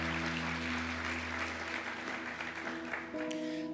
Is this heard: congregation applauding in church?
yes